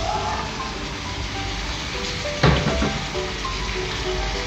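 Half-fried pork ribs dropped into a pan of softened tomatoes for pork ribs afritada, giving a steady, close sizzle with a sharp burst of spitting and clatter about halfway through before settling back to an even fry.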